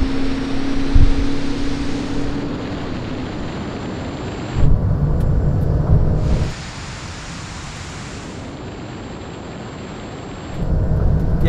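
A Porsche 911 Turbo S, of the 992 or 991.2 generation, accelerates at full throttle in a runway drag race. A loud, broad roar heard from inside the car surges and drops between gear changes and sits close and continuous.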